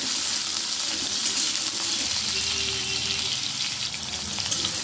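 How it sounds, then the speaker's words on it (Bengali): Potatoes finishing frying in a pan of spiced oil give a constant close, hissing sizzle that stays even and loud, with faint low stirring sounds underneath. "আলুগুলো আমার ভাজা হয়ে গেছে।"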